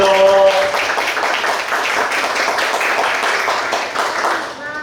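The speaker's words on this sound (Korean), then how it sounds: "큰 감사의 박수 드리도록 하겠습니다" Applause from a church congregation at an evening session of a Bible camp, a steady wash of clapping through most of the stretch with some voices mixed in, fading near the end.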